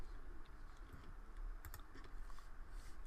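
Steady typing on a computer keyboard, a run of soft, fairly quiet key clicks with a few sharper taps, heard alone without any voices.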